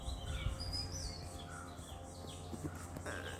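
A bright yellow bird gives a few short, high chirps at scattered moments. The calls sound faint and somewhat distant over a steady outdoor background hum.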